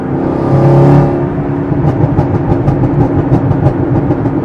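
A tuned Chevrolet Camaro ZL1 pulls hard on the freeway, its engine a loud, close, steady harmonic drone with a whirring edge that surges briefly early on, then holds.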